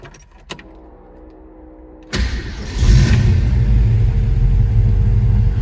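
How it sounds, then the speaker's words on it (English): A 1969 American Motors AMX engine starting: a few faint clicks, then the starter catches at about two seconds and the engine settles into a loud, steady, deep idle rumble, recorded close with no talking. "let's go start this one up"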